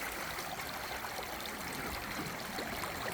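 Steady, continuous rush of Big Beef Creek, Bremerton, Washington, swollen with snowmelt, even and unbroken throughout, moderately distant with no voices.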